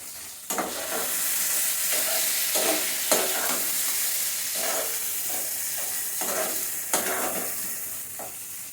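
Fried potatoes and three slit green chillies sizzling in a pan, with a continuous loud frying hiss broken by several sharp spatula scrapes and stirs spaced through it.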